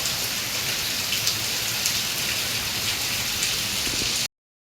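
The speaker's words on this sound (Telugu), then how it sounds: "చూడండి ఎంత వాన పడుతూ ఉందో" Dense, steady rain pours down with a constant hiss and patter, occasional louder drops, then cuts to silence near the end.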